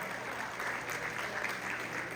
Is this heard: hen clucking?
no